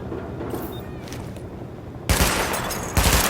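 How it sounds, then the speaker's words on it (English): Gunfire rings out at highlighted targets during a weapon test in Tom Clancy's The Division: a steady low patter of shots, then two louder, nearer bursts of rapid fire. "Open fire at the highlighted targets."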